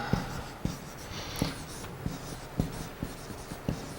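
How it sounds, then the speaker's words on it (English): Handwriting a name with a pen on paper, a series of short scratching strokes at a steady, irregular rhythm, close and fairly quiet against a faint room background. "Could you write the name of that?"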